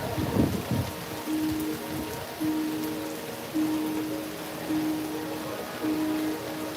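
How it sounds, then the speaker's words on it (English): Steady rain falls at EPCOT, a constant hiss of drops on surfaces, with a recurring soft tonal beep sounding at regular intervals in the background. "sometimes it'll just be a constant rain, but not enough for you to like seek shelter"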